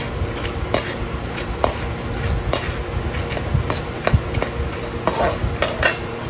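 Puffed-rice chiwda frying with dried red chillies in a home kitchen pan, with a steady soft sizzle under repeated sharp clinks and scrapes of a spoon stirring against the metal.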